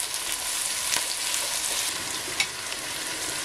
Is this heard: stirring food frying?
yes